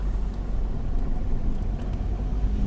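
A 1995 Nissan Primera P10 facelift driving along, a steady low engine and road rumble filling the cabin, even and continuous with no talking.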